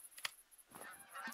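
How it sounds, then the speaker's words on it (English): Geese honking in the hunting game The Hunter: Call of the Wild, a few short calls rising over a quiet outdoor bed, with one sharp nearer honk and a fainter flock calling toward the end. "we've already got some more geese here coming in"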